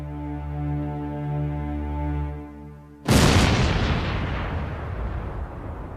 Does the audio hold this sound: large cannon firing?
yes